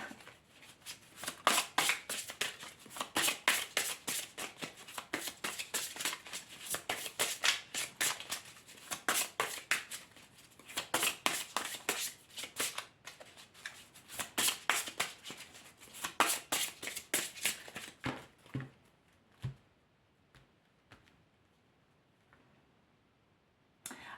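A deck of oracle cards shuffled and cut by hand, a long run of dense, rapid riffling flutters in close bursts, then a few sparse taps and card slaps as the cutting ends and things fall quiet.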